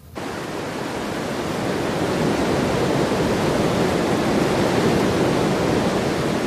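Ocean waves near Bridal Veil Falls make a steady, loud broadband roar that swells in after a brief silent start and carries on unbroken, with no talking.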